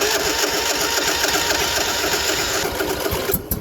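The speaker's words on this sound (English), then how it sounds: "The battery was probably dead the whole time, but it fired right up now." A car engine runs steadily after firing up on a fresh battery, a continuous close rattling idle with a rapid rhythmic chatter, no talking over it.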